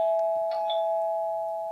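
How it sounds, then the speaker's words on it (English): A Tapo H200 smart hub chime rings once as motion detection triggers it, a clear close electronic doorbell tone over a steady hum, with no talking. "And triggers the chime there."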